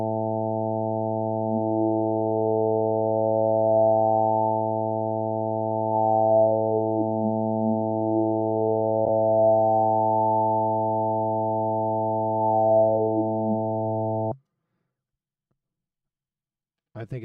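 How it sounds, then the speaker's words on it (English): A steady, buzzy harmonic tone whose overtones slowly sweep up and down as if filtered, running continuously before cutting off into silence. "So we're going to run the sound through an EQ filter."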